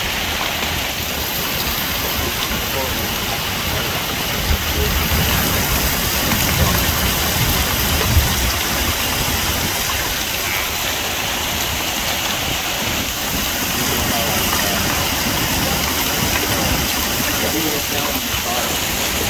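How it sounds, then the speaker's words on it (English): Intense rain mixed with hail pours down on a front yard in Ogden, Utah, a dense, loud, unbroken hiss filling the whole span while people talk over it. "Oh look at the hail jumping in the front yard."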